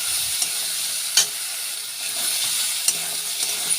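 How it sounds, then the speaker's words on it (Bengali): Ginger and garlic fry in a pan with a steady, bright sizzle, punctuated by a few sharp clicks and scrapes of stirring. "আদা রসুনটা ভাজা হয়ে গিয়েছে"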